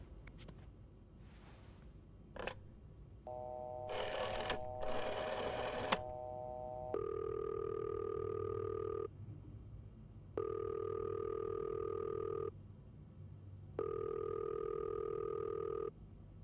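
Unanswered phone ringing in the game This Bed We Made, a steady electronic two-tone ring repeating in three long bursts with short gaps, preceded by brief clicks and rustling handset noises, fairly clear over quiet background hum.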